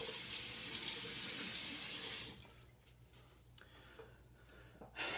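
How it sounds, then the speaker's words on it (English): Tap water runs into a sink for a quick razor rinse during a wet shave, a steady close hiss for about two seconds before it cuts off, leaving faint handling noises. "We'll go ahead, get a rinse really quick"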